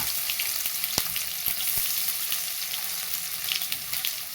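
Curry leaves and garlic paste sizzle steadily in hot oil for an eggplant bhaji, a dense crackling hiss with a few sharp pops near the start, close and alone with no voices.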